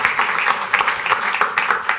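A conference audience at Superweek 2018 claps in a steady, close, continuous patter for a couple of seconds, with no talking over it.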